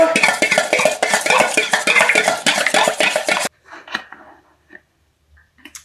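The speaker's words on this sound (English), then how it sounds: "We're going to crack some more eggs. We're going to mix them up just like before." Eggs are being whisked in a bowl, giving rapid rhythmic clinking and tapping for several seconds, then a few sparse light knocks and clinks after the mixing stops.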